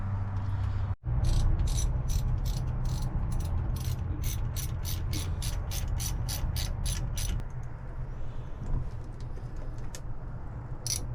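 A ratchet wrench tightens exhaust clamps on a MerCruiser manifold in a quick run of evenly spaced clicks after one sharp knock, then stops, leaving a low rumbling background hum.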